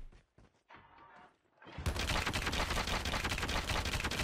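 Gunfire in the COD Mobile battle royale shooter: after a quiet stretch with soft bursts, a loud continuous volley of rapid automatic shots starts abruptly and keeps going to the end.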